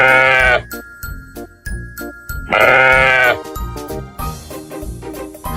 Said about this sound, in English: What sound does a sheep make? A sheep says,